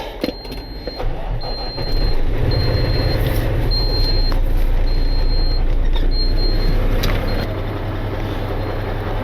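A steady series of short, high reversing beeps repeats evenly over the loud rumble of a large idling diesel rollback tow truck.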